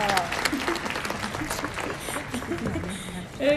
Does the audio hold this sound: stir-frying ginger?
no